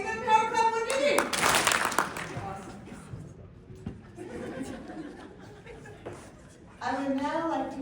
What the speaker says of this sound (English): Let's give him a power clap when you do.